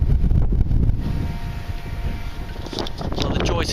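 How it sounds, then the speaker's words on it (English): Strong wind buffets a camera microphone on the River Crouch, a loud, continuous low rumble with gusty swells throughout, and a voice is faintly audible under it. "that's a strong wind blowing across the camera"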